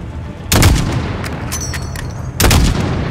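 Two loud, sharp sniper rifle shots crack and boom about two seconds apart in Call of Duty: Modern Warfare, each trailing off into a reverberant tail.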